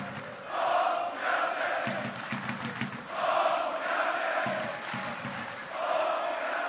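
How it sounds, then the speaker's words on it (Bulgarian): Football crowd in a Bulgarian stadium at a CSKA Sofia versus Slavia Sofia league match chanting a player's name, rhythmic massed voices rising and falling in repeated phrases, heard from a distance. "Публиката скандира Тодор Янчев"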